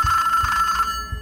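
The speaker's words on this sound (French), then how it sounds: "le téléphone peut sonner." A telephone rings in the video game Mr. Hopp's Hunting Hour, a loud electronic bell trilling steadily and alone before cutting off near the end.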